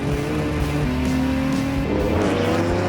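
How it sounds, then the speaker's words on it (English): A Porsche 917 race car screams into a corner at high speed, its engine note holding a loud, sustained howl that drops and shifts in pitch as it brakes and changes gear, heard close and continuous. "Carrying a massive amount of speed into the corner."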